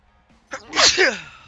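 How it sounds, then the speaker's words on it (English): A single loud sneeze with a short sharp intake of breath before it, close to the microphone and otherwise quiet. "I gotta sneeze again."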